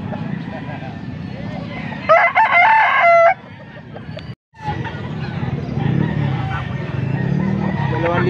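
Young roosters (bull stags) crowing at a Pampanga poultry market, one clear crow rising loud and close over steady crowd murmur and other distant fowl, with a brief silent gap before the chatter resumes.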